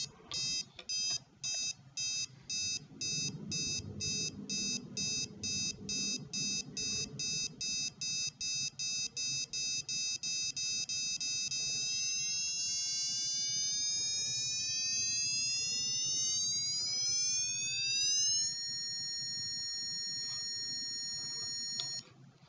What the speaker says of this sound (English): So that's basically the main alarm function.